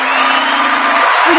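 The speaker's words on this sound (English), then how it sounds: "I bring my own cheering crowd" A recorded cheering crowd sound effect, a loud, continuous swell of whoops and yells lasting a moment, heard alone.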